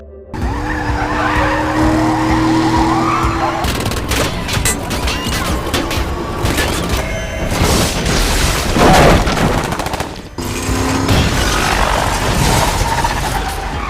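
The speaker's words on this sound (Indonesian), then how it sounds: "setelah aksi kejar-kejaran yang sangat menegangkan" Skidding tires and revving car engines from a tense movie car chase, with loud continuous roaring, squeals and a few heavy booms, briefly dropping out near the end before resuming.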